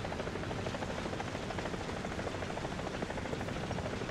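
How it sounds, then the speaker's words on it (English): Low-flying helicopter in the War Thunder video game, a dense continuous rotor thrum that stays steady and fairly distant, heard alone without talk. "I hear a helicopter."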